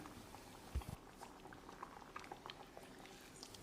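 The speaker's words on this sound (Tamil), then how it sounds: "காரசாரமான மட்டன் கிரேவி கொதித்து வந்துருச்சு." A thick, spicy mutton curry bubbles softly in a pot, with scattered small pops and plops over a quiet simmer.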